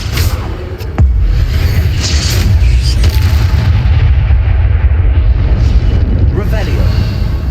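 The Incendio fire spell is cast in Hogwarts Legacy, setting off a sudden deep boom followed by a sustained, loud fiery roar and rumble, with a voice speaking over it.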